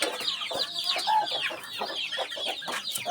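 Several good-quality hens cluck and chatter continuously at close range, with overlapping calls throughout.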